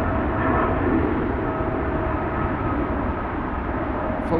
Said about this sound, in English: we have the Emirates 777-300